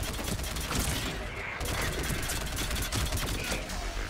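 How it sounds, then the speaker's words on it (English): Sustained gunfire from the video game Mass Effect 3 forms a dense, continuous fusillade of rapid shots and impacts, loud throughout with no pauses. "What am I getting shot from?"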